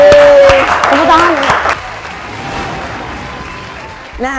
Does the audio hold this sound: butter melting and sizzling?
no